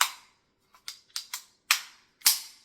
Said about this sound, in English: once you have your magazine in, just snap it in and you're ready to go